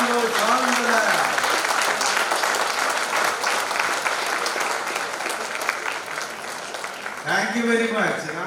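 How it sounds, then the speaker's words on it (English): Standing ovation at an opening speech for a laboratory animal science association: a hall audience claps loudly and steadily for several seconds, with a voice speaking briefly at the start and again as the applause fades. "I request all of you to please stand and give a round of applause"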